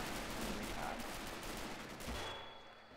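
Sniper fire and battle noise from the World War II strategy game Men of War: Assault Squad 2, a dense, continuous wash of gunshots and explosions that holds steady, then thins out toward the end.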